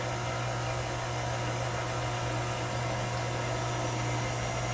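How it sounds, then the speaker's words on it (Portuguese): A stand mixer beats panettone dough with a steady, close motor hum and a constant whirring drone, unchanging and uninterrupted throughout. "Até o barulho da batedeira muda"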